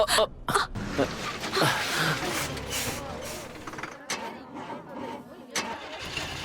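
A broken-down bus's engine cranks in uneven bursts, a rough stuttering whir that starts, stalls and repeats, with people talking over it.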